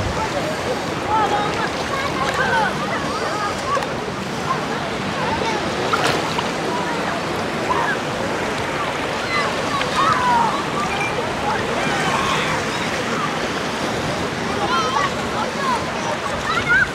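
Sea waves wash steadily onto the beach at Anapa, with a continuous hiss of surf and wind buffeting the microphone, fairly close and moderately loud throughout.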